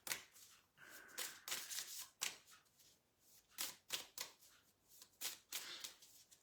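Quiet, rapid riffling and slapping of tarot cards being shuffled, in repeated bursts with short pauses, close by and without speech.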